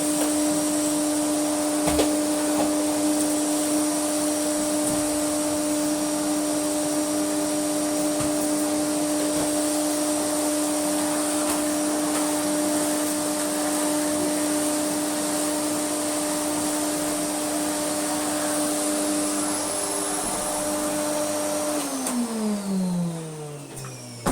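A restored Moulinex E59 vacuum cleaner runs on a hard floor with a loud, steady motor whine and airflow roar. Near the end it winds down as the pitch falls.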